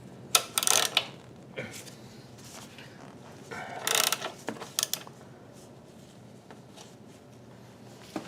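A socket wrench works bolts loose on a 2001 Kawasaki Ninja 250 motorcycle during a front sprocket change, giving a few short ratcheting bursts with quieter clicks between, close and fairly loud against a low background.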